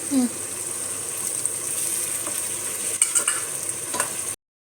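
Tomatoes sautéing in a pot with mint, coriander and green chillies for chicken biryani, a steady sizzle with stirring knocks and scrapes, cutting off abruptly near the end.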